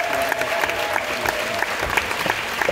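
Sustained audience applause in a theatre at the 2021 Cannes Film Festival, a dense, even wash of many hands clapping with a few sharper claps popping out, and no speech over it.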